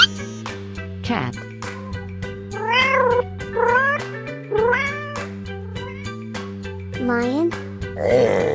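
A cartoon cat meows several times over a bouncy looping children's cartoon tune, with rising and falling mewing calls spread across the music.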